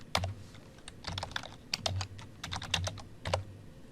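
Fingers tap on a computer keyboard close by, quick irregular keystrokes clustered into short bursts with brief pauses between, fairly soft and unaccompanied by talk.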